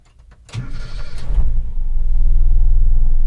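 A Toyota Kijang Super engine cranks and catches about half a second in, then settles into a loud, steady, low idle rumble close by.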